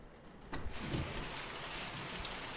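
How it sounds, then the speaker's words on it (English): Rain in the horror video game The Mortuary Assistant begins abruptly and then continues as a steady, dense hiss of drops falling on surfaces, close and enveloping with no voices. "Oh, the sound of rain."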